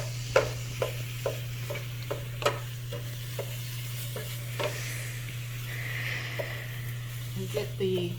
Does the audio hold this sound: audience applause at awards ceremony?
no